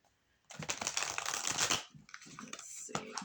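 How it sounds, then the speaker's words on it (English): Someone shuffles a mixed Kali and Kuan Yin oracle card deck close by. A rapid riffling burst is followed by softer sliding and tapping of the cards. "A couple more shuffles here."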